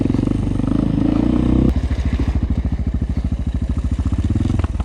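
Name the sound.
Alfarad 250 dirt bike engine running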